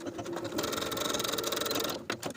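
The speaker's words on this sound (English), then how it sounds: "sew the short edges with a 5/8 inch seam allowance" A sewing machine runs a steady, close stitching burst along the short edges of a folded fabric cuff piece, whirring continuously for about two seconds before stopping with a few short clicks.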